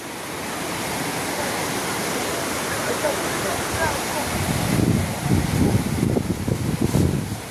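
Seetharkund waterfall at Kollengode roars with a broad, steady rush of falling water while tourists bathe, and bursts of splashing and muffled voices rise toward the end.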